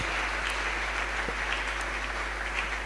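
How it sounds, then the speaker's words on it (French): A church congregation at a Sunday service applauds, giving a round of clapping for the Lord; the dense, even patter of many hands continues steadily throughout without talk. "And give a round of applause for the Lord."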